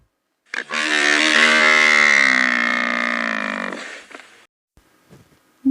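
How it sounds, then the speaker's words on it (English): A single long, loud buffalo moo, a deep drawn-out bellow lasting about three and a half seconds, heard alone and close, then fading into silence. "Buffalo."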